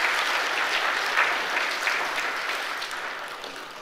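A church congregation applauds newly appointed deacons during a Korean worship service, a dense, steady round of clapping that slowly fades over several seconds.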